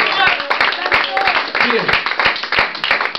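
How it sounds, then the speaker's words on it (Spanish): A church congregation claps and applauds. Scattered, sharp claps continue under loud talk and voices for the whole stretch. "denle un fuerte aplauso al Rey de Gloria"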